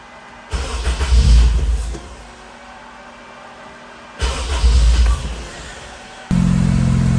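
Honda Integra Type R with a K20 engine and a newly fitted throttle body that will not idle, revving in two short bursts from a rough low idle, then settling into a steady higher drone.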